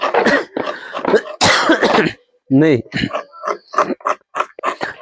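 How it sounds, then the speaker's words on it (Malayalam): A person coughs in several harsh bursts between spoken phrases, close and loud. "എന്ത് കഴിച്ചാലും മാറാത്തൊരു ചുമ"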